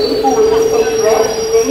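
Tirupati–Puri express train pulling into platform 2 at Bhimavaram Town station, wheels squealing in a sustained high metallic whine over a low rumble, loud and close.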